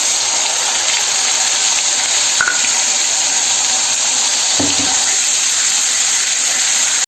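Onion and tomato go into hot oil in a kadai with whole cumin and sputter in a loud, steady hiss, with a couple of brief clanks partway through and no talk.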